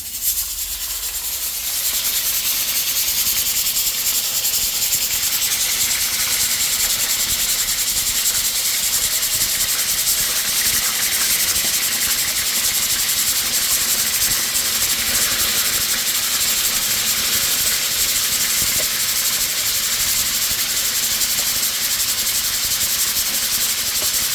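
Hot cooking oil sizzles and crackles in a pan, a loud, bright, continuous hiss that holds steady throughout with no talk.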